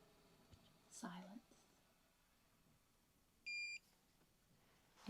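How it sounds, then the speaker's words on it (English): A diesel heater gives a single short electronic beep as it powers down, faint and close in a quiet room, with a few soft murmurs around it. "And it beeps."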